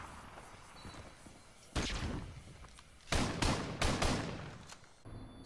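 Video game shotgun fire comes as several loud, sharp blasts spaced a second or so apart, each trailing off quickly, over a low background hum.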